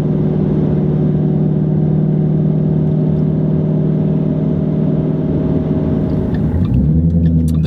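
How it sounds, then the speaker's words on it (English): A car's exhaust drones steadily at cruise, heard from inside while driving, a constant loud low rumble that shifts and deepens near the end as the driver accelerates. "I think my exhaust is starting to make noise"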